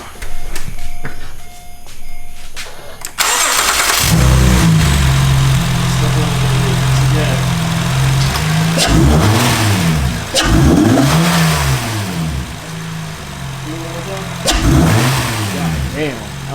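An Acura TL fitted with an AFE Takeda intake cranks and starts, then idles with a deep steady rumble and is revved several times, each rise and fall rough and loud. Brief talk comes just before the start.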